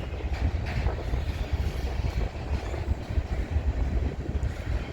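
Freight train with CP and KCS hopper cars rolling past, a steady broad low rumble with wind buffeting the microphone, constant and moderately loud with no clear breaks.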